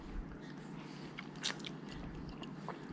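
Quiet, close crunching and squishy chewing of a soft-pulped cold hardy citrus fruit, a Citrandarin-type clementine hybrid, with a few crisp bites standing out over steady low background noise.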